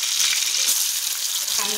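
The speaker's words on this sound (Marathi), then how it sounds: "तेल तापलेलं आहे, त्याच्यामध्ये मी लसूण टाकून घेते," Garlic dropped into hot oil in a pot, a sudden bright hiss of sizzling that holds steady and close for a moment.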